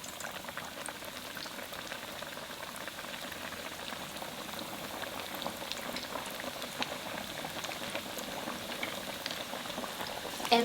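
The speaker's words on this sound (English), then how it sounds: "Carefully put in the fish fillets skin side up" Fish fillets deep-frying skin side up in avocado oil heated to 350°F, a steady, dense crackling sizzle with busy bubbling that holds at close range for the whole stretch, with no voices.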